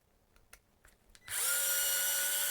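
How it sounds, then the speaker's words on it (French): Budget electric screwdriver starting up after a few faint clicks and handling noises, then running with a loud, steady high-pitched motor whine until the end. "Mais il va bien ce tournevis électrique."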